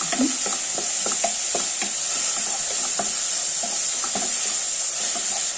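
Ginger, garlic and green chilli frying in oil for a mushroom cutlet mix, a steady close sizzle with scraping stirs throughout and no talking.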